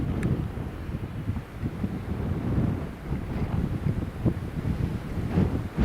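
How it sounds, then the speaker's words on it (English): Strong gusting wind at Newcastle International Airport, buffeting the microphone in heavy low rumbling bursts that rise and fall throughout, loud and close, with no one speaking. "the wind is currently gusting 23 knots apparently"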